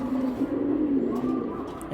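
Old-breed pigeons coo nearby, a low continuous throaty murmur with a few faint chirps above it, steady throughout.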